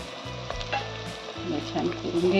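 Kurdu wild greens hit a hot pan with a sharp burst of sizzling that settles into steady frying crackle, close and fairly loud, with scrapes and a low hum underneath.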